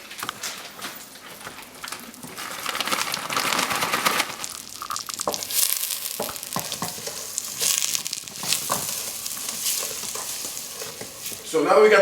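Butter melting with brown sugar stirred into a pot, a steady sizzling bubble with scraping and stirring strokes throughout, growing louder midway and close to the pot.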